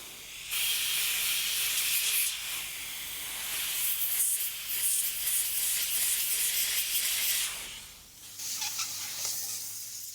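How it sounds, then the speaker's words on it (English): An airbrush sprays paint onto paper feathers of a wedge-tailed eagle artwork, a steady airy hiss running for several seconds, briefly dropping away before resuming over a faint low hum. "I'm just following my reference and spraying this particular tone into those feathers"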